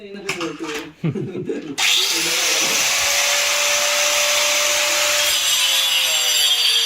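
After a brief stretch of talking, a grinder cuts into a borewell casing pipe with a loud, sustained abrasive roar and a steady whine that holds to the end.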